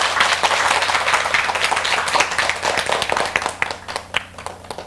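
An audience claps warmly to welcome Professor Hyun Tae-deok's lecture on teaching children English speaking, loud dense applause that thins into scattered individual claps toward the end.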